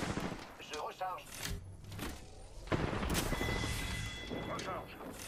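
Gunfire in Apex Legends, a mix of bursts and single shots with sharp impacts, heard under a voice speaking along with the game's sounds.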